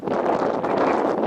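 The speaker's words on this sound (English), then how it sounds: "It's about to be really windy. The shelf clouds moving into us." Strong wind roars steadily as a shelf cloud moves in ahead of a storm, a broad continuous rush buffeting close to the microphone with no pauses.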